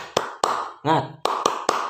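A class of children does a rhythmic spirit clap, sharp clap groups in an even beat around a short voiced chant.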